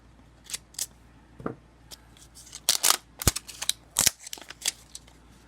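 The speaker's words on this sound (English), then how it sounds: "I'm going to use a pair of scissors and try not to cut myself" Scissors snip and crunch through stiff plastic packaging on ASMR sticks and tapes, a run of sharp, close clicks and cracks in uneven bursts, some loud and some light, with no voices.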